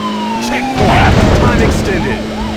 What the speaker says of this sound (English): A police car is approaching.